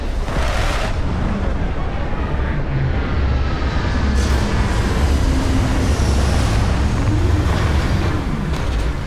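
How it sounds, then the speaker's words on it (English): Spaceship retro thrusters roar in a continuous, loud, broadband rumble during a landing in the Starfield video game, with deep low-end booming and hiss holding steady throughout. "Retros firing."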